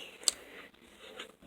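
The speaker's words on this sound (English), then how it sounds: "I just like the click of it." Clicky, non-stretchy slime being played with in the hand gives off a few small, sharp clicks and pops, close-up and quiet, with no voices.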